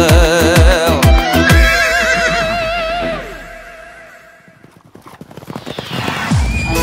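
Horses gallop in a Kazakh foal race, with loud, rapid clip-clop hoofbeats up close at first, then fading before returning, a horse whinnying and voices shouting encouragement over the pounding.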